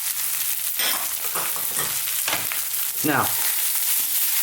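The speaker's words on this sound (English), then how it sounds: "let's just throw these around, stirring all the time now. We don't want our powders to burn." Cumin, coriander and Kashmiri chili powder sizzle in a hot pan for a beef curry, with a steady crackling fry and scraping stir strokes up close; a voice speaks briefly.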